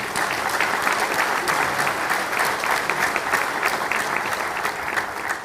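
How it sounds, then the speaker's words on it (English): Sustained applause from an audience at a public event in Louisiana, dense steady clapping that holds at even loudness for the whole stretch with no voices over it. "So give yourselves a round of applause."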